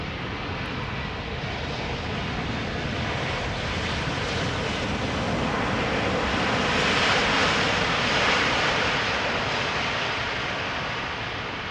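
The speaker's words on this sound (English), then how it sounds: "KLM flight 672 arriving from Montreal, 777-200. Now touching down after 6 hours and 7 minutes of flight time" A KLM Boeing 777-200 touches down at Amsterdam Schiphol, a broad steady roar of engines and rushing air that swells toward the middle and holds loud throughout, with no talk.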